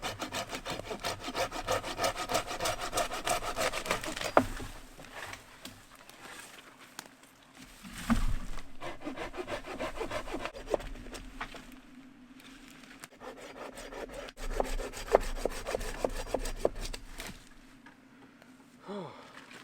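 Hand saw cutting through fallen, fire-scorched hardwood in burnt Australian bush, a steady close rasping back-and-forth rhythm that pauses briefly and resumes, with outdoor rustling around it.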